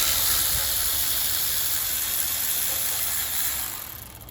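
Ratchet working on the valve cover bolts of a 2010 Mitsubishi Galant, a close, continuous fast clicking that gradually fades near the end.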